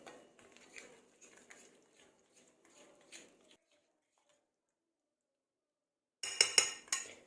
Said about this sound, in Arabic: هنخلط المكونات الاول كويس